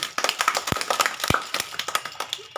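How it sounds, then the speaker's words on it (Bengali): A group claps loudly for the winning team at a village party game, a dense burst of quick overlapping hand claps that runs the whole way through. "সবাই একটা জোরে হাততালি"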